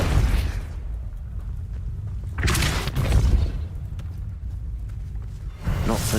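Depulso spell cast in Hogwarts Legacy: a loud whooshing magical blast rises after a rumbling stretch, with a second burst near the end, all over a continuous low game rumble.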